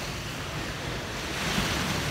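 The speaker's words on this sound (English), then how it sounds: "Here's a decent wave." Ocean surf washing in, a steady broadband rush of breaking water with wind noise on the microphone, swelling slightly louder toward the end, with no voices.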